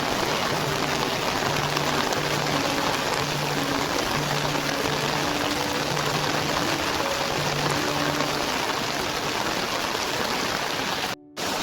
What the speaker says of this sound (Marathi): जबरदस्त पाऊस आलाय.